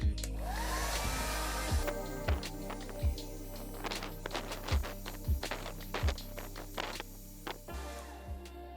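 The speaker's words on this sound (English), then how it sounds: "I'm going to warm up the glue that is on this sticker with a hairdryer" A hair dryer warming sticker glue on an old game console blows steadily with a loud, continuous whoosh, punctuated by several dull thumps and knocks as something is handled nearby.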